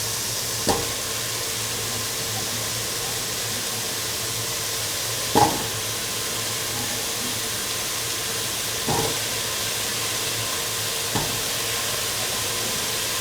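Cauliflower pieces fry in a pan alongside potato pieces, giving a steady close sizzle with occasional stirring clicks and scrapes spaced several seconds apart.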